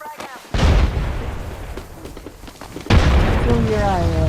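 A frag grenade blast in Apex Legends erupts with a heavy boom, and a second deep explosion rolls in a few seconds later amid the game's ongoing noise.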